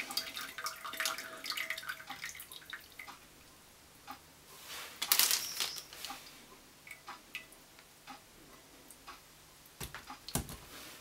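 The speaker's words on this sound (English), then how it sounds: "you want to let the excess water drip away" Hot boiling water dripping off freshly pulled-out plastic beads during a crafting project: irregular small drips and trickles, with a brief louder splash burst midway, close and fairly quiet with no talking.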